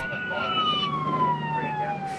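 A fire truck siren wails at Melbourne Tullamarine Airport during an A380 engine fire drill, a loud steady tone gliding slowly downward over a rumbling background of engines and commotion.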